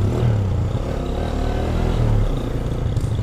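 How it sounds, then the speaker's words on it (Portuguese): A 2012 Yamaha Fazer 250 motorcycle with a fault, its exhaust rumbling steadily and revving up close, a continuous loud engine note with slight swells and no talk. "Olha o escape do Caio, top, tiozão. Olha, é nervosa"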